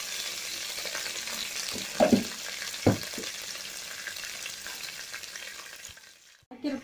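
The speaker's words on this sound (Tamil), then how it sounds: "குழம்புக்கு தேவையான அளவு உப்பு போட்டுட்டு நல்லா ஃப்ரை பண்ணிக்கணும்" Mushroom gravy with salt sizzling and frying in a pan, a steady hiss broken by a couple of sharp stirring scrapes, close up, fading before a brief clatter at the end; no one talks.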